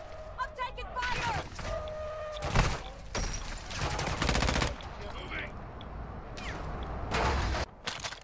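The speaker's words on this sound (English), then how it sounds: "I'm taking fire!" Rapid automatic gunfire and single shots crackle through a Call of Duty DMZ firefight, bursts loud and close amid sniper fire, with people talking over the shooting.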